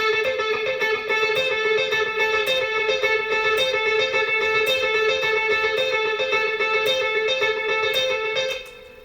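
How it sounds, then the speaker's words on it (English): An electric guitar riff with a delay effect, its notes repeating in a steady pulsing rhythm with echoing trails, played alone, close and loud before stopping abruptly near the end. "With delay it would sound like this."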